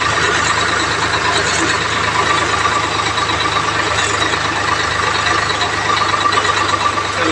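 Truck engine running near a grain market cowshed while trucks are loaded with fodder, a steady low idling drone throughout, with faint background activity.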